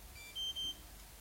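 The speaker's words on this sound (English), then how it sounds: "Loud beep tells you it stopped recording" A camera gives two short, high electronic beeps in quick succession as recording stops, heard alone and fairly loud against a quiet room.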